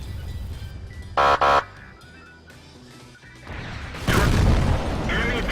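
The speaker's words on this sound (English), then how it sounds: "artillery throws down some HE nearby me" Artillery high-explosive shells from a World of Tanks battle burst near an IS-6 heavy tank, two short loud blasts followed by a heavier rumbling impact, with no talk over them.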